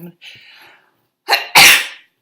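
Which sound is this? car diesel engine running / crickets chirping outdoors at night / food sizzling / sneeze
sneeze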